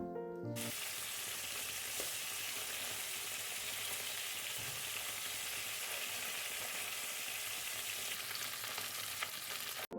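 Fish sizzling in a hot pan for rice and fried fish, a steady close crackling fry with faint stirring, continuous and without talk.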